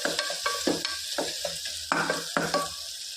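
Tomato with turmeric and salt softening in a pan, giving a soft sizzle with repeated stirring scrapes and light utensil clicks in a quick irregular rhythm, close and fairly quiet, without talk.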